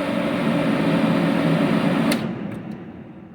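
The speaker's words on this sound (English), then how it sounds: "that cooler moves a fuckload of air, and I'm sure it'll keep the torch nice and cool" An Everlast W375 TIG welder water cooler runs with a loud, steady fan whoosh and hum, then cuts off abruptly with a click about two-thirds through as the noise winds down.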